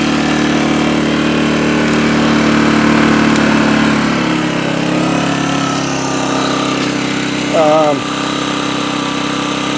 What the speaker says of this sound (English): economy mode has been activated, so that gives you an idea of what it sounds like